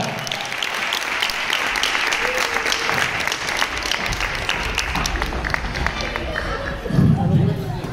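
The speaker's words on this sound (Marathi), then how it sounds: "जोरदार टाळ्या" A stage audience claps steadily at a live cultural program, a dense continuous patter of applause with voices mixed in, swelling briefly toward the end.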